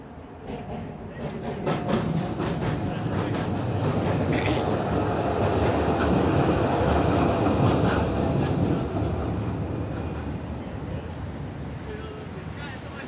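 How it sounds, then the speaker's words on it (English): A number 47 tram in Budapest rumbles past with rhythmic wheel clatter, growing louder, peaking, then fading away. Voices are heard under the noise. "that tram that just went by, the 47"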